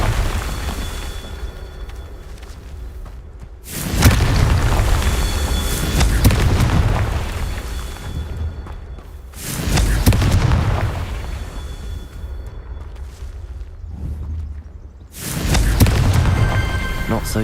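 Confringo fire spell explosions in Hogwarts Legacy, a series of loud booming blasts in a video game battle, each burst followed by a rumbling decay, with several spaced detonations across the stretch.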